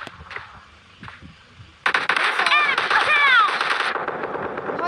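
Gunfire in a shooting video game breaks out after quiet movement, a dense burst of rapid automatic shots lasting about two seconds, loud and close, followed by lingering noisy reverberation.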